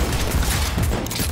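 Rapid bursts of gunfire from the video game Cyberpunk 2077, dense and continuous, loud and close throughout with no clear gaps between shots.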